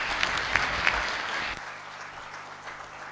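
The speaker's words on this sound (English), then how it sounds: "Can we please give them a big round of applause?" Conference audience at an internal audit summit clapping for the panel, a round of applause with a few sharp whoops that fades out after about a second and a half, leaving a low hum.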